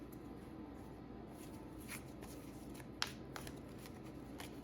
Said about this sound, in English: I'm just gonna keep shuffling and get 2 more cards.